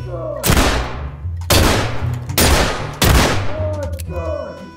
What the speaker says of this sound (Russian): Я же тебя просто выстрелю